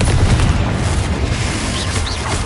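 A Confringo spell explosion in Hogwarts Legacy, a loud sustained booming roar with deep rumble that stays dense and powerful throughout, no talking over it.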